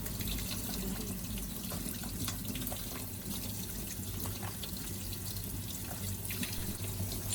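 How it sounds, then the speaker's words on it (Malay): Noodles for Korean japchae rinsed under a running kitchen tap, a steady close rush of water splashing into a sink with small drips and clatters throughout, no talking. "So while the noodles are being rinsed"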